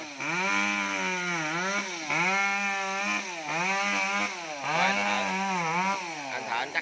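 A chainsaw cuts through coconuts, its engine revving in repeated rising and falling strokes, loud and close throughout with no pauses.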